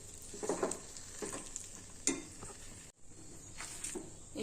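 A metal spoon stirs rice pitha dough in boiling water in a pot for traditional Assamese bhat pitha, giving repeated soft scraping strokes over a steady bubbling hiss, with a brief dropout near the end.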